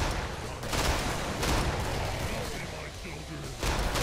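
Minigun fire in the co-op shooter Killing Floor, loud rumbling bursts with pauses between them, heard with players talking over the action.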